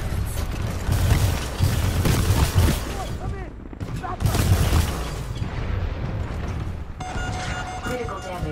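Gunfire and heavy explosive booms in Titanfall 2 multiplayer, loud and dense bursts across the clip with a lull in the middle, and a synthetic game voice talking over parts of it.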